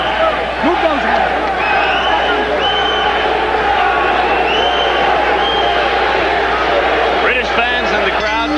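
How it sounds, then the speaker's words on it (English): British boxing fans chant in a packed arena for their fighter, Gary Jacobs, in a bout with Pernell Whitaker, a loud continuous crowd roar with rhythmic chanting and whoops, with brief shouts near the end. "British fans in the crowd chanting for their man, Gary Jacobs."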